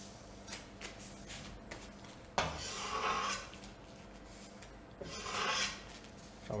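A knife blade scrapes minced half-fat pork grease off a cutting board in two long rasping strokes, close and fairly loud, with faint kitchen clatter between them and no talking.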